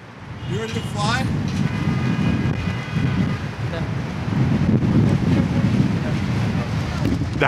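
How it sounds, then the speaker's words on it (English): Strong wind buffets the microphone, a loud continuous rumble with gusts rising and falling throughout. "So as you can see, it's windy as hell."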